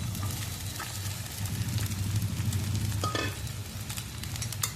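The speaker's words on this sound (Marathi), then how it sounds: "आता याच्यात आपण साबुदाणा घालून घेणार आहोत" Sabudana added to frying potatoes and green chillies and stirred in the pan: a steady close sizzle with scraping stir strokes, a brief sharper clatter midway, and no talk.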